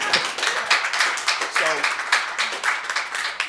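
Audience applause at a Veterans Day commemoration panel, a dense wash of many hands clapping throughout, fairly loud and continuous with some voices mixed in.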